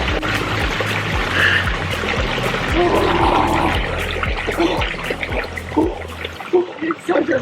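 Shower water running steadily through the whole stretch, a continuous splashing hiss with people talking and laughing over it.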